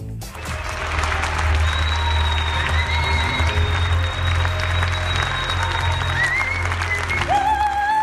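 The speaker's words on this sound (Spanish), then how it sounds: "Esa ovación se la dedicaron precisamente a nuestro invitado." Conference audience giving a sustained ovation to a guest musician at the close of a talk, with broad steady clapping and crowd noise under sustained musical tones and a low hum.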